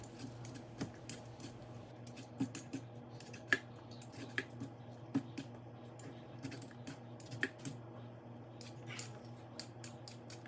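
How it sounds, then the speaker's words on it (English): A sweet potato being peeled in a home kitchen, with short scraping peeler strokes repeating at a steady rhythm. The strokes are soft and close over a low constant hum, with no talking. "So I'm going to peel this sweet potato."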